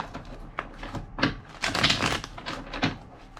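Tarot cards being shuffled by hand, a run of close, papery riffling and slapping bursts that swell in the middle and trail off, with no talking.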